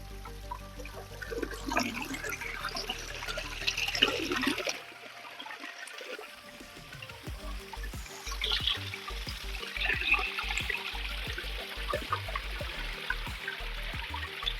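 Rushing water at Kethenahalli Falls near Chikkaballapur pours and splashes steadily, briefly dropping away midway before the flow returns with a constant roar.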